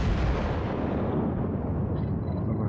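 American battleship guns firing in the World of Warships naval video game, a loud continuous booming roar of heavy gunfire and rumble that fills the whole stretch without a break.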